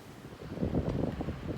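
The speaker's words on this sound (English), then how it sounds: "the wind is just whipping" Strong wind gusting across an open homestead on a frigid day, a steady low roaring rush with buffeting swells, loud and close with no talk.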